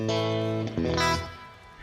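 A clean, sustained electric guitar chord from an amp plugin rings out, then shifts to a brighter second chord that fades away, with no voices.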